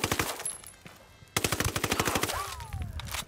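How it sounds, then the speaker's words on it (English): Automatic gunfire from the video game Ghost Recon Wildlands on PS4: rapid, evenly spaced bursts of shots, loud and close, with a short pause before the firing resumes. "But he's shooting me."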